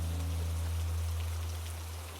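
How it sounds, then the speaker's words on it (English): Steady rain falls in a soft, even patter with a low continuous hum beneath it, holding constant and fading slightly toward the end. "Rain slows, almost pausing."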